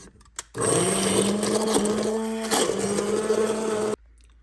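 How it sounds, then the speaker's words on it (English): An immersion blender blending pinto beans whirs steadily for a few seconds, its hum wavering slightly as it works, then cuts off abruptly. "Your immersion blender, or just grab another blender and get those all blended up."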